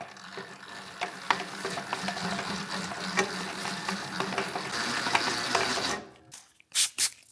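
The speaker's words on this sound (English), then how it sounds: "then we mix for another 5 minutes at high speed" A stand mixer kneads sourdough shokupan dough with butter and salt at high speed, giving a steady mechanical churn with faint knocks and slaps for about six seconds, then cutting off into near silence with two brief bursts.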